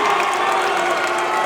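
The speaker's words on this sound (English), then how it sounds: "You hear cries of Edu around in the crowd" A crowd at a padel final in Jakarta calling out for a local favourite player, a steady wash of cheering and shouting voices, loud and continuous throughout.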